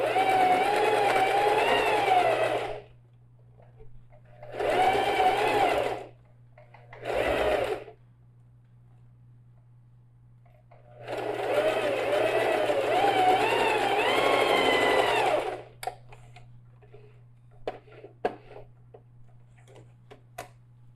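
A sewing machine stitches a backpack seam in separate bursts: a long run, two shorter ones, then a longer stretch of close, steady motor whir, with a low hum between bursts and scattered clicks at the end.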